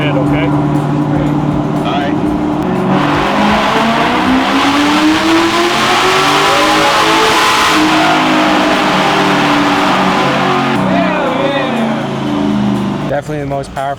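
High-powered car engine revving hard on a dyno, a loud sustained roar climbing and holding in pitch for most of the run before easing off, with people talking faintly underneath.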